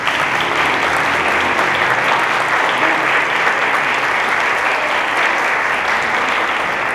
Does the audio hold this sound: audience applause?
yes